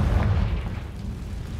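A Confringo fire spell in Hogwarts Legacy erupts into a deep, rumbling blast that is loud at the start and then fades slowly into a low roar over under two seconds.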